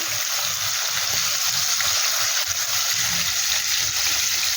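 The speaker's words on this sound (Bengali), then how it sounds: "দেখো আলুগুলো ভাজা হচ্ছে।" Potato pieces seasoned with salt and turmeric fry in a pan, giving a steady, loud, close sizzling hiss that runs unbroken through the whole stretch, with faint low stirring rumbles and no voices.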